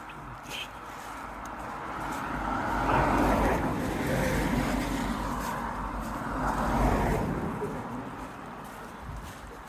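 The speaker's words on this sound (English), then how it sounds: "A bunch of cars coming." Cars passing by on a country road beside fields, two vehicles swelling up and fading away in turn, fairly close, with faint birdsong in the background.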